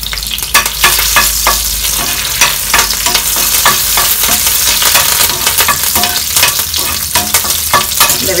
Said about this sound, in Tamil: எண்ணெய் காஞ்சிருச்சு, கடுகுண்ட பருப்பு போட்டுக்குவோம்